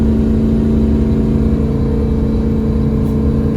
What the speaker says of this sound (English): I'm foot to the floor and I'm accelerating